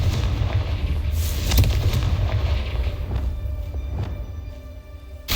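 Blasting fire-spell explosions in Hogwarts Legacy, a series of loud booming bursts over continuous rumbling battle noise, with no talking.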